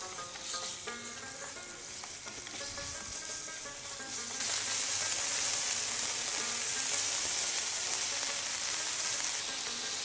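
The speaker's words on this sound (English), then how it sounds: "We stir fry the beef." Beef stir-fries for yakisoba noodles with a loud, continuous sizzle and crackle that swells noticeably partway through and stays strong to the end, without any voices.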